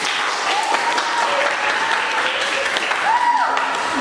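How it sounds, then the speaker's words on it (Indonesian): A class of students applauds in a classroom, steady close clapping that runs without a break throughout, with some voices heard faintly over it. "Oke, tepuk tangan dulu."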